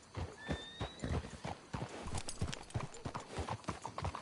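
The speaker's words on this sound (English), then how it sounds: "Let's hitch the horses up ahead." Horses in the Red Dead Redemption 2 video game clip-clop at a walk in a steady, uneven rhythm of hoofbeats, with a whinny early on, close and moderately loud, no talking.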